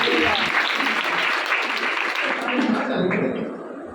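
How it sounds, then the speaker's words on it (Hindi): A church congregation breaks into loud applause during a sermon, a thick burst of clapping that holds steady before thinning out toward the end, with a voice rising over it. "कलीसिया जोरदार तालियां यीशु के जलाल के लिए बजा दीजिए"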